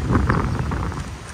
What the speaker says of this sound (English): Oh, why is it so windy in BGC?